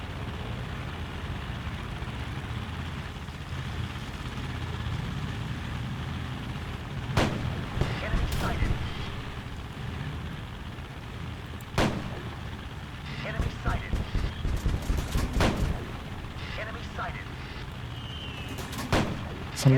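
Tank cannon and gunfire in an online tank battle game featuring an M3 Lee, scattered sharp booming shots over a low idling engine rumble, including a rapid burst of repeated shots midway.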